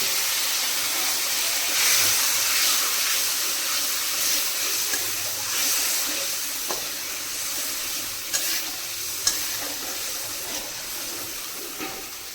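Potato dum masala cooking in oil, with water poured into the frying spice paste; a steady hiss and sizzle with soft stirring scrapes and a few sharper clinks, no talking.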